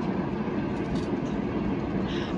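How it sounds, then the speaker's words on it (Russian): Suburban electric train passing near a balcony on a rainy day, a steady rumbling roar with faint rail clatter, heard at moderate distance. "Опять электричка нам мешает."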